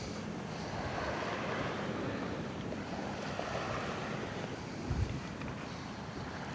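Wind gusts across a coastal rock platform at Myola, New South Wales, a steady broadband rush with mic buffeting and a brief thump near the end, no voices.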